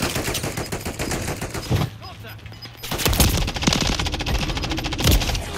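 Gunfire in the Modern Warfare 3 beta game, loud dense bursts of automatic shots and bangs, with a short lull before firing resumes, a voice speaking over it.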